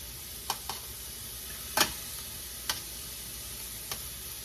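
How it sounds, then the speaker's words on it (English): Ahi tuna sears in a pan with a soft, steady sizzle, punctuated by a few sharp pops and ticks, close and fairly quiet with no talk. "And I am searing ahi tuna."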